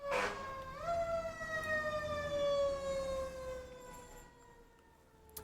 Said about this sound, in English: There's a loud siren in my neighborhood.